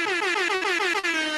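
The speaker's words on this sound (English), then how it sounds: "never enough air horns" A loud air horn blares in repeated short blasts, a rapid stuttering run of piercing honks with no voices.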